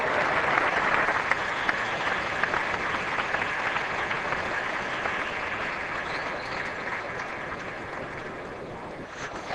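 A packed cricket crowd at a Sydney Test match applauds steadily after Sachin Tendulkar's glorious on-drive brings up his fifty. The clapping is broad and continuous throughout, easing slightly toward the end.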